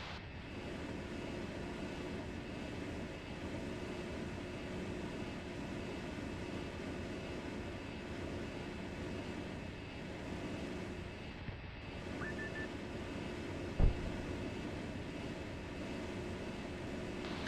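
A military helicopter flying in the Arma video game, a steady droning rotor and engine hum lasting throughout, distant and even, with one brief sharp knock near the end.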